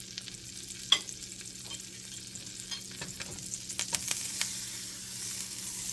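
Half a tablespoon of butter melting in a hot pan for scrambled eggs, a soft steady sizzle with a sharp clink near the start and occasional light scraping.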